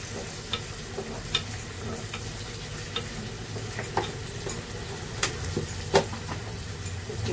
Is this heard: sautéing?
yes